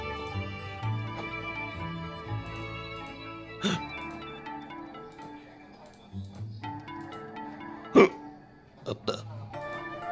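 Cartoon hiccups from Luigi in a Mario animation, a few sharp bursts popping up over music and background sound, with a voice heard around them.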